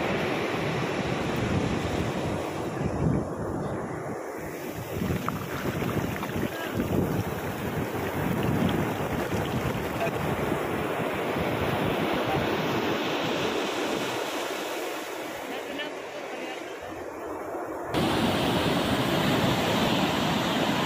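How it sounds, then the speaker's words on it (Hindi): Ocean waves wash against Manora Beach near Karachi Port in a continuous surf roar. Strong wind buffets the microphone throughout, and the sound stays fairly even with no voices. "exotic beach."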